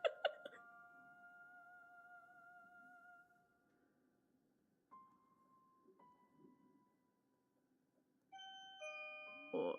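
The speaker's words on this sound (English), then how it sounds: "Oh, doorbell." A doorbell chimes in a quiet room: a two-tone ding-dong at the start, a softer single tone midway, then another bright chime near the end, each ringing out and decaying.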